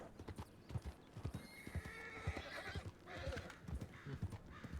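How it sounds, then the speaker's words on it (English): Horses in a ranch roleplay video game clop along in a run of distinct, quiet hoofbeats, with a neigh and whinny rising in the middle and again near the end. "Oh, that sounds like horses."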